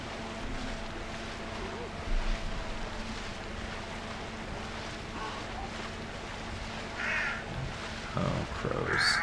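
Crows caw a few times near the end in Hunt: Showdown, faint and distant beneath a steady blowing, rumbling wind-like background.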